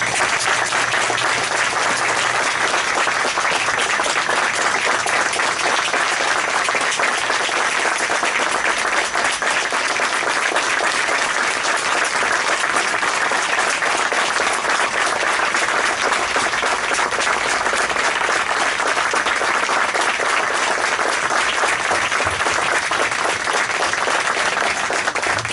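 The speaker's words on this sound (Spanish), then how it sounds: "Y un fortísimo y caluroso aplauso de nuevo para vosotros." Long, loud, sustained audience applause from a large crowd at a Guardia Civil ceremony in Spain, an unbroken wash of clapping that holds steady with no pauses.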